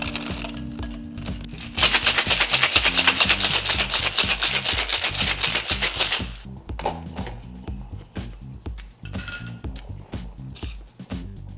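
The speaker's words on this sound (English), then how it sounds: "So we'll add some ice and shake again until it's chilled." Metal cocktail shaker tins shaken hard with ice and egg white, a loud, fast, steady rattle of ice against metal for several seconds, then slower knocks and clinks as the shaking stops.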